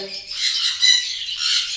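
Lovebirds on a bird farm squawk in shrill, rapid chirping bursts that run continuously and sound close by.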